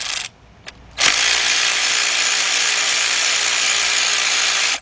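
A ratchet with a 10mm deep socket works bolts during a head gasket job on a 2006 Kia Sportage EX 2.7, giving a brief click then a steady, loud, close buzzing rattle of rapid spinning for about four seconds.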